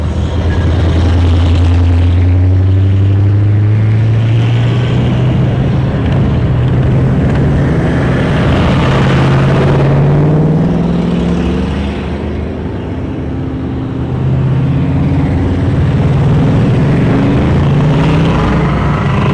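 Motorcycles of bikers escorting the North Carolina Honor Flight bus along a street, a loud, continuous engine roar with rising and falling revs as bikes pass close by, swelling and fading in waves.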